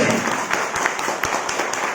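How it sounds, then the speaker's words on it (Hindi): A church congregation claps loudly during a Hindi sermon, producing a dense, continuous roar of applause with a rhythmic pulse of regular, stronger claps running through it. "जोर से ताली बजाओ, जोर से।"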